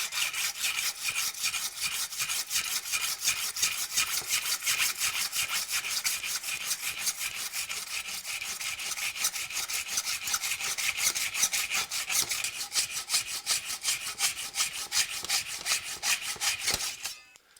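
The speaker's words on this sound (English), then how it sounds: "with an aluminium base it does breeze through the" A saw blade cuts through an aluminium Z bar in quick, steady back-and-forth strokes, a close, continuous rasping that runs evenly and stops near the end.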